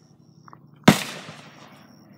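A single sharp .45 pistol shot cracks close at an outdoor range, its report decaying over about a second against a quiet background.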